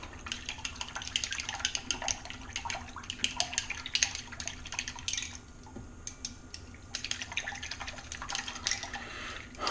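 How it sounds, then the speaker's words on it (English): Yeast being stirred into water for pizza dough, close-up liquid sloshing and swishing with rapid clicks of a utensil against a bowl, pausing briefly midway before resuming. "Stir it around just a little bit."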